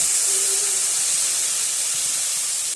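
Onion, ginger and garlic paste is dropped into hot oil with whole garam masala while cooking Bengali doi katla fish curry, giving a loud, steady, close sizzling hiss that carries on unbroken.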